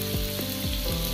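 Sliced onions dropped into hot oil already holding cumin and asafoetida, giving a steady, loud, dense sizzle that fills the brief moment, with no voices.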